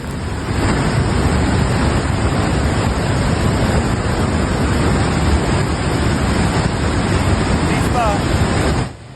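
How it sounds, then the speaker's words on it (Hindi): Floodwaters of the swollen Teesta river in Sikkim rush past in a loud, steady, broadband roar that stays constant for nearly the whole stretch, then cuts off abruptly near the end. "तीस्ता नदी की रफ्तार इतनी तेज है कि पुल टूट गया है"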